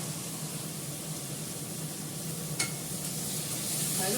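Leafy greens and vegetables simmer in a pan after a little water goes in, giving a steady broadband sizzle that holds near and even, swelling slightly toward the end, with one brief clink partway through.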